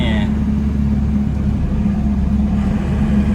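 A 1996 Isuzu TFR 4WD pickup cruises in fifth gear, giving a steady, close low engine drone and road rumble from inside the cab while someone talks over it.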